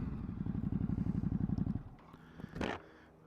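A 2019 Ducati Hypermotard idles with a throbbing, pulsing engine note as it pulls over, then shuts down, followed by a short hissy scrape and faint clatter, close by and moderately quiet.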